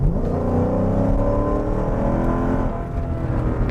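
Supercharged Mercedes E55 AMG engine pulls hard under acceleration, its rising whine and roar climbing steadily in pitch over a few seconds, loud and close with no talk.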